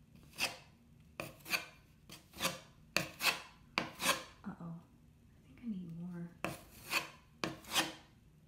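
Spackle is scraped with a putty knife during a home repair, making repeated short, crisp rasping strokes in an uneven rhythm, close and clear, with a soft voice heard briefly between strokes.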